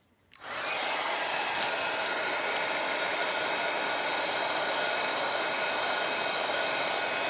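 A handheld hair dryer switches on and blows in a steady, loud, close whoosh while drying paint on a Dollar Tree wooden Easter egg craft, holding constant without breaks.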